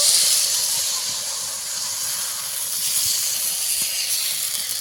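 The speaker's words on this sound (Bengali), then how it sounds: "এখান থেকে এক বাটি বেটার নিয়ে নেব কড়ার মধ্যে ভালো করে ঘুরিয়ে নেব" Rice-and-lentil batter for chakli pitha is poured into a hot pan and swirled, giving a steady loud sizzling hiss that lasts throughout with only a slight dip midway.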